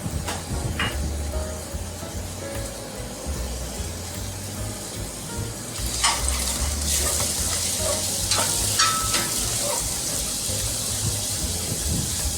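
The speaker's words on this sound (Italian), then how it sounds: "Facciamo soffriggere dello scalogno tritato." Chopped shallot sizzling in olive oil in a pan for an asparagus risotto, a soft steady frying crackle with a few brighter clinks and stirring scrapes midway, no talking.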